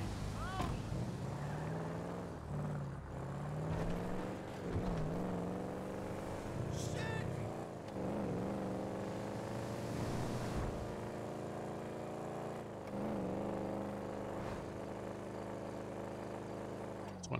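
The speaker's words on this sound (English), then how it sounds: "Sounds kind of rumbly, like a V8." A rumbly V8 car engine drives along in the video game GTA V Online, its deep drone swelling and dipping with gear changes and throttle over about seventeen seconds.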